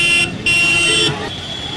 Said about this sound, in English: If you want someone to move out of your way, you honk.